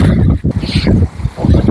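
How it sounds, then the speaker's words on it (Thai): Strong wind gusts outdoors beneath a bridge in Norway, loud low rumbling buffets that swell and dip irregularly and press hard against the microphone. "วันนี้ลมแรงนะคะ ลมแรงมากนะคะ"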